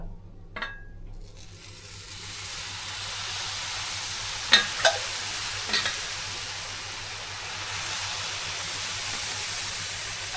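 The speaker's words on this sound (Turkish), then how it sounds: "Şimdi sıcak halde şerbetimizi döküyoruz üzerine" Hot syrup poured over freshly baked pistachio kadayif in a tray, giving a steady sizzling hiss with a few faint clinks, near and alone.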